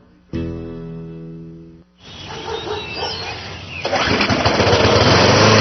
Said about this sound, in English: You just started your lawnmower on the first pull.